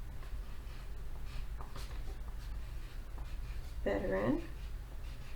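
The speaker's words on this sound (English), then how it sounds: "So let's trace with our pencil." A pencil scratches as it traces words on paper, faint strokes beneath a speaking voice that continues over most of the stretch.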